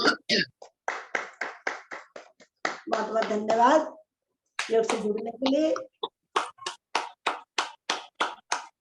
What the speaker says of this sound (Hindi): बहुत सुंदर ताली बजा रहे।